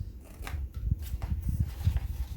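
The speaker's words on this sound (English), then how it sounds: "I'm going to cut in to my line" Scissors trim the paper of a clasp envelope being made into a small journal, with close, repeated snipping strokes over a low, steady background hum.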